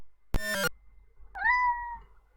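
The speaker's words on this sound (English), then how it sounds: "My cat is here." A cartoon cat meows in a Commodore 64 adventure game, heard as a short synthesized chip-tune meow following a separate buzzy tone, both near and clear against a quiet background.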